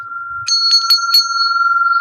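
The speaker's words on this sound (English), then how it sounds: "Ringing the bell for a smile." A small bell rings out clearly and close, a sustained bright ping with a few quick strikes layered on top, fading slowly.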